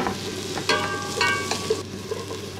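Minced garlic, onion and scallion whites hit hot oil for a garlic butter mussel stir-fry. A close, crackling sizzle with a few sharp clinks of a utensil against the pan. No talking.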